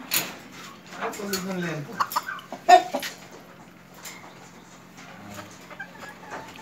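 Chickens cluck and squawk in short bursts nearby on a poultry farm with turkeys, a few calls rising above a quiet background hum with occasional clatter.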